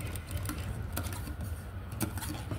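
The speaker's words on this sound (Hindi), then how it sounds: "इस तरह चारों साइड इस तरह चारों साइड सिलाई लगा देंगे" Sewing machine stitching small fabric scraps along all four sides, a steady mechanical whirr with rapid rhythmic needle patter running continuously and close.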